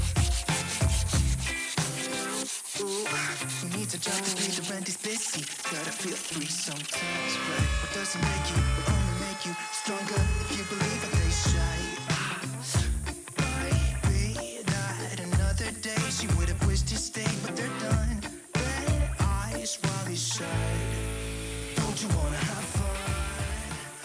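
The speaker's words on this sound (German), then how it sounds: "Dazu machen wir wieder die Vakuumplatte an und schleifen einfach mal ein bisschen los." Wood being machine-sanded on a vacuum table, a loud, continuous abrasive rubbing that rises and falls in rhythmic strokes, with no talking.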